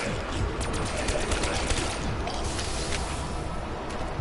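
Rapid, dense gunfire from a wall-buy weapon in the Black Ops 3 zombies map Origins, steady bursts of close, loud shots across the whole stretch.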